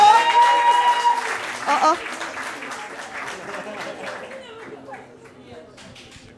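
A crowd applauds a comedian as he comes on stage, loud at first and gradually fading, with a brief vocal sound and some talk mixed in.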